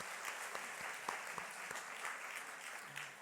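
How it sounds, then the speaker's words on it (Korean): Church congregation at a Christmas service applauds steadily after a sixth-grade boy's drumming debut, a dense continuous patter of many hands with a few louder claps standing out, no voices over it. "축복의 박수 한번 보내주십시오."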